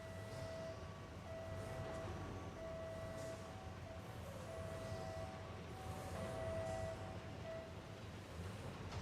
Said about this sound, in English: The game is just making siren noises.